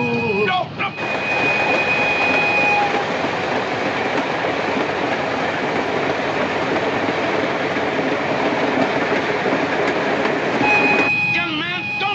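A train rumbles steadily along the rails with a continuous broadband roar, a high squealing whistle appearing near the start and end.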